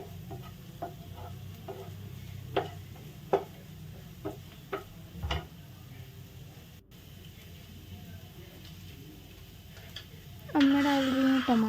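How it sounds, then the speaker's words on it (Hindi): Pasta sauce base being fried and stirred in a pan at home, soft sizzle with intermittent utensil scrapes and taps through most of the stretch, then a louder burst of frying near the end. "यहाँ पे थोड़ा सा मैं उसको अच्छे से भून रही हूँ कि वो अच्छे से भून जाए"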